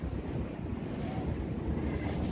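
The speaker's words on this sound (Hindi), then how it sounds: "वो समुद्र है।" Sea waves wash in a continuous low roar mixed with gusting wind on the microphone, a steady rumbling surf with no distinct breaks, heard alone without talk.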